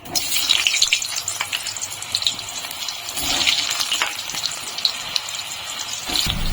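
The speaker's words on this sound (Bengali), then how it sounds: "সর্ষের তেল গরম বসিয়েছি এখন আমি আলুগুলো বেঁধে দেবো" Parboiled potatoes fry in hot mustard oil, a loud, close, bubbling crackle that surges and spatters unevenly throughout, with a few sharper pops near the end.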